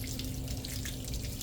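Hot water runs steadily from the tap of a small under-sink water heater, a soft continuous hiss and trickle with no voices.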